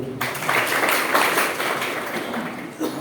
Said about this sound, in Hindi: इसलिए भी ताली बजाइए